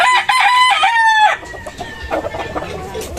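A Gilmore Hatch gamecock rooster kept for breeding gives a loud, close crow lasting over a second, then several quieter clucks and scratchy farmyard noise, with no talk.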